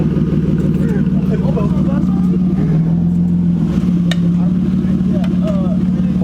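A BMW E36 325i with a straight-piped exhaust idles and revs loudly nearby, a deep rumbling drone rising in a couple of throttle blips, with people talking over it.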